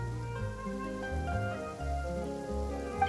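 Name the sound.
rain falling in video game Genshin Impact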